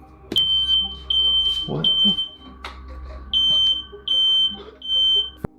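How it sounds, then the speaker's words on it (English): A fire alarm gives a string of short, high, evenly spaced beeps, about seven in all, while a voice speaks briefly and thuds and bumps sound in between. "a fire alarm that turns off only when he commands it"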